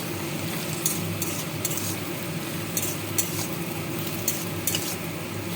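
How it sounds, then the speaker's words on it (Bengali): Okra stirred with homemade mango kasundi in a pan gives a soft sizzle under repeated light scrapes and clicks of a utensil against the pan, close up and without talk. "এবার নেড়ে চেড়ে"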